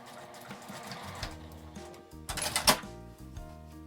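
A sewing machine stitches fabric for a slim coin purse, a quiet, close mechanical whirring in short runs with a louder burst of rapid stitching near the middle, no voices.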